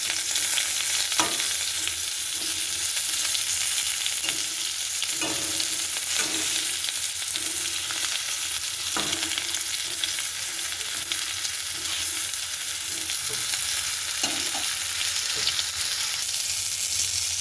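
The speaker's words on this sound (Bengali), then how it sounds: "পটলগুলো আমার ভাজা হোক।" Pieces of pointed gourd (potol) fry in rendered goat fat, giving a dense, constant sizzle with occasional soft knocks from stirring and turning, and no talk.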